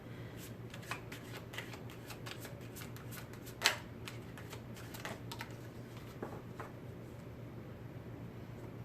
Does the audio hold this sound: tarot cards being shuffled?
yes